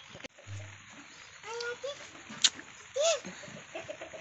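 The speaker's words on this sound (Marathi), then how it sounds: "खूप सारे वत्थर किडे निघाले कोंबड्या खातात" Village hens pecking for insects in rain-soaked mud give a few soft, scattered clucks, faint and close, over a quiet outdoor background with brief bumps and a short higher call.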